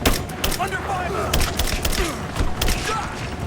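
Rapid gunfire in the Rise of the Tomb Raider video game: sharp repeated shots crackle through dense combat noise in quick bursts, loud and close, with voices talking in between.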